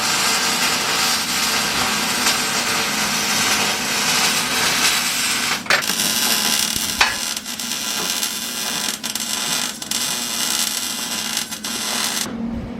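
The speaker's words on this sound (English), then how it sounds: "It's just a deburring tool. It's carbide." A carbide deburring tool spins against metal while chamfering an edge during custom fabrication work on a Mazda Miata, giving a steady, close grinding hiss that runs the whole time with a few brief sharper scrapes.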